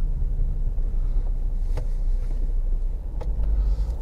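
A car drives along roads near Margate toward Reculver, with a steady low engine and road rumble throughout and a few faint clicks and brief higher sounds over the drone.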